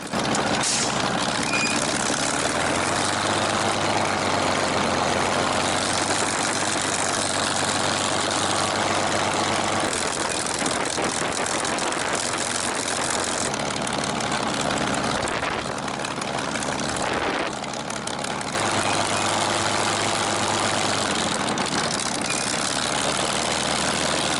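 A Spitfire's engine running steadily during the pre-takeoff run-up at the end of the runway, a loud continuous droning roar with slight shifts in pitch and intensity, heard from close by without talking.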